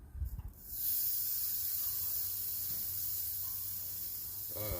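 Marinated chicken pieces flavoured with garlic, olive oil, thyme, salt and pepper are laid on a hot grill to mark them. A soft thump comes first, then a loud, steady hiss that holds to the end.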